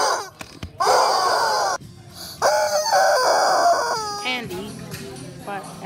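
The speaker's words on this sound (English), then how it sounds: "Wait, I think there's a rubber chicken here." A rubber chicken toy lets out long, loud, strained squawks and squeals in several bursts, close by, in a store setting, with some background voices.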